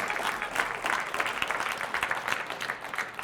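Scattered clapping from a seated audience at a Formula DRIFT press conference during SEMA 2022, steady moderate applause lasting a few seconds without speech over it.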